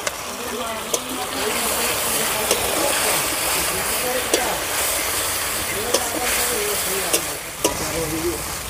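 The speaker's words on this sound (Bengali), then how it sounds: "মশলাটা ভালো করে কষিয়ে নেব" A ground spice paste frying in a pan gives a steady, moderately loud sizzle and hiss throughout, with sharp clicks of stirring spaced every second or so.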